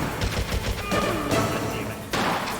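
Gunfire in Metal Gear Solid on PS1 hits the player: loud rapid bursts of shots in quick succession, then a short pause and another burst near the end.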